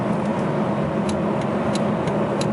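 A Volvo S60 from the 2013 to 2019 model years under way on the road, its engine a steady, muffled cabin drone with road noise and faint periodic ticking over the top.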